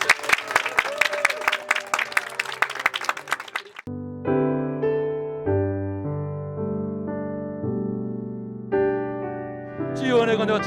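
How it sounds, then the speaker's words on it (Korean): A church congregation claps for a newly baptized member during a Korean Presbyterian Sunday service, several seconds of steady applause that gives way to sustained keyboard or organ music. "박수합니다."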